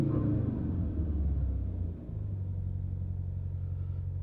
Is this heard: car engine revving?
yes